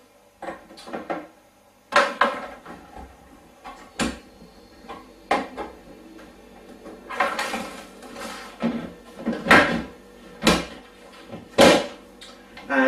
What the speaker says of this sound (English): I'm going to put the lid on.